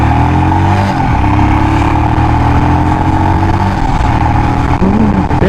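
A motorcycle accelerates hard from first gear, its engine a loud, close, continuous drone that holds steady and climbs slightly toward the end, with no talking over it.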